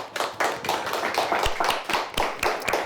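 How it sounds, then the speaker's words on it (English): Studio audience applauding a high school quiz team, a steady burst of close, crisp hand claps with no talk. "Let's give them a nice round of applause"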